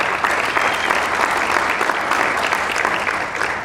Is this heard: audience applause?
yes